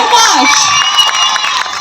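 An audience at a live stage show cheering and clapping, a dense close roar of shouting voices and whoops with children's cries, continuous and loud throughout.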